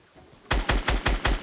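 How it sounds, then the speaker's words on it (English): A SCAR assault rifle in Fortnite fires a rapid burst of six loud, evenly spaced shots after a short quiet lead-in. "the other teammate is shooting me with the Scar"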